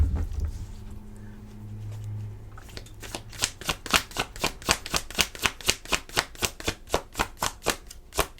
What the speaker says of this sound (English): we're going to put some cards on this